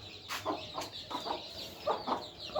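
Hens clucking in a home poultry shed where hens have hatched chicks, a run of short rhythmic clucks at close range over a steady low background, no talking.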